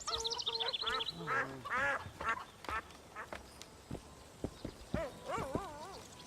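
Ducks quacking in a farmyard setting in The Witcher 2 video game, several quacks in quick bursts mixed with horse clip-clop and a brief whinny, fairly faint against game ambience.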